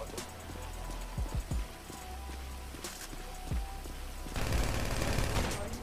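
Pistol gunshots in a video game, a few sharp cracks in quick succession early on amid ambient game noise and footsteps, followed by a louder dense rush of sound near the end.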